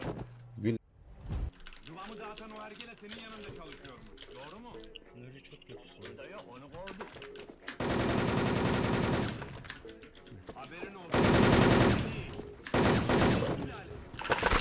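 Gunfire in the online shooter Wolfteam, with busy game sounds and chatter at first, then dense bursts of automatic fire near the end, loud and close.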